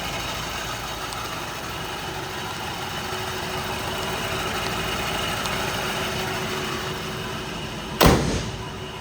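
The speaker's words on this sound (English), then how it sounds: "Engine just purrs like a kitten." A 1953 Pontiac Chieftain hardtop's straight-eight engine idles smoothly and steadily near the microphone, with a sudden sharp knock or bump breaking in near the end.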